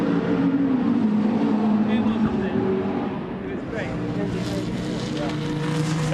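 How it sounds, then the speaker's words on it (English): A race car drives on a racing circuit during a battle for position, its engine a continuous roar blended with broad track noise, with a voice talking over it throughout. "There is Bas Lenders' car"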